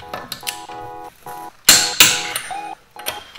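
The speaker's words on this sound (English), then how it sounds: "let's torque these tires at, it is 129 foot-pounds is what Tesla recommends" A torque wrench tightens the lug nuts on a 2022 Tesla Model Y to 129 foot-pounds during a winter tire change, making repeated close mechanical ratcheting clicks in short bursts, with a couple of louder sharp clacks.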